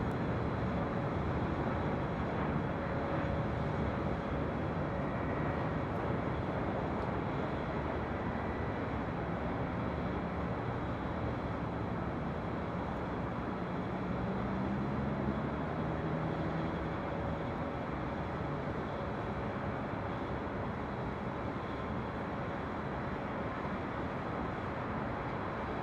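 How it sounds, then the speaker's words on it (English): An Air Canada Airbus A220-300 jet passes at LAX, heard from a high hotel rooftop as a broad, steady engine roar that holds at a fairly even level throughout, with no talk. "That was Air Canada Flight 775 coming from Montreal on that Airbus A220-300."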